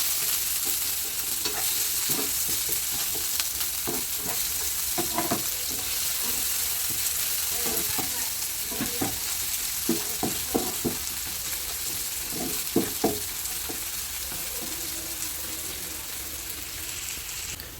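Sliced onion fries in a pan for chicken noodles with two kinds of vegetables. A steady close sizzle runs throughout, broken by repeated spoon scrapes and knocks from stirring, and no one speaks.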